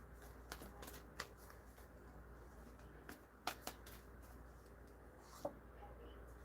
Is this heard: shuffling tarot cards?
yes